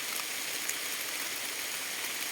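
Steady rain falls on a farm where red cows are kept for sale, a dense, even hiss of drops without pauses and no voices.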